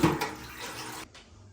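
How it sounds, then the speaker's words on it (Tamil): Water runs steadily from a tap while fish is washed before baking, a close rushing splash that cuts off abruptly, leaving a quiet room. "இப்போ எல்லாம் கழுவியாச்சு"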